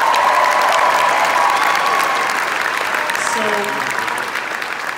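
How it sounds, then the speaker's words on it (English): An audience gives a band a dense, loud round of applause that holds steady for several seconds and then begins to taper off, and one voice speaks briefly near the end. "Let's give them a round of applause."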